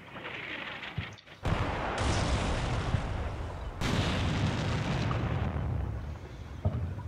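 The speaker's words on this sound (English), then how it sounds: "Taking some American artillery fire in the center, trying to range in on our BTRs." American artillery fire in the Cold War tactics game Combat Mission Cold War pounds a battlefield, with dense, continuous rumbling blasts and booms that stay loud and overlapping throughout after a brief dip near the start.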